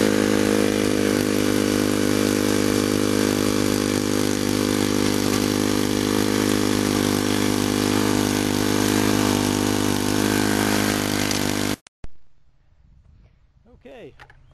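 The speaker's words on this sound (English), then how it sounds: "I'm going to rototiller to smush out of these clods" A gasoline rototiller churns through clods of garden soil in a bean patch, a loud steady engine roar with rattling tines that runs continuously for about twelve seconds, then cuts out, leaving a quiet tail with a faint voice.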